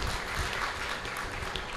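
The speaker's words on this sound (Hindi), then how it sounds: "मैं चाहती हूँ उन बच्चों के लिए तालियां बजा दीजिए" An audience at a Hindi comic poetry gathering claps for the children. The applause is a dense, sustained burst of many hands at an even level throughout.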